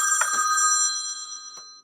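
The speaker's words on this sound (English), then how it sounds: "Somebody tried to call me on my phone." A mobile phone rings during a live broadcast, a bright, sustained electronic ringtone heard close and loud for a couple of seconds before cutting off abruptly, with a few faint knocks underneath.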